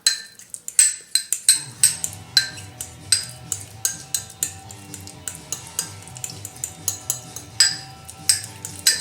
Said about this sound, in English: Okay, so we got, like I said, about 8 raspberries. Just mash them up.